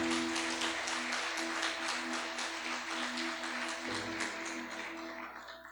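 A church congregation claps steadily through a worship service, with the applause sustained and moderately distant over a low, continuous musical hum.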